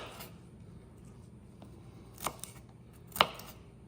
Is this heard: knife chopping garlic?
yes